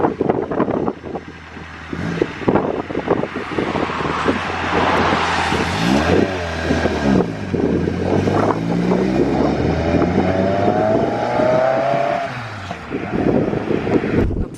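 A Caterham sports car pulls away from a classic car show in the rain with a loud engine rising through the gears in revving sweeps. Road and wind noise sit under the engine, and nobody speaks.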